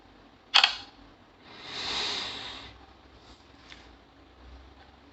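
A single sharp shutter click from an Infinix Note 8 smartphone camera, followed by a soft breathy hiss, then quiet.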